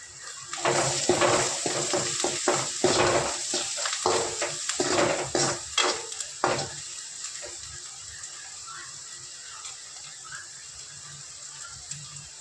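Onions frying golden in a pan for a leftover-roti snack, stirred in a run of scraping, sputtering bursts for several seconds before the pan settles to a faint background hiss.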